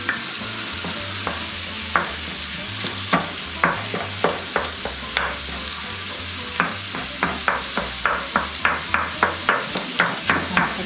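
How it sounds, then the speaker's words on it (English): Sausage sizzles steadily in a pan on a stovetop with bright scraping and tapping strokes from a utensil, close and busy, repeating irregularly and speeding up toward the end, with no talking. "I like to make my sausage real brown, so it'll be just a little while before it's fried up"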